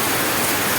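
Steady broadband hiss of rain pouring down close by, dense and continuous with no pauses.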